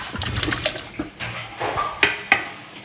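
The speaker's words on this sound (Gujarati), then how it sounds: "હવે આપણે આ આટલું આમાં પાણી મૂકી દઈને હવે આપણે બટેટા છે તે બાફવા મૂકી દઈએ" Water poured and splashing into a pot of halved potatoes set to boil for bateka vada, with clanks of the pot and a few sharp knocks in a home kitchen.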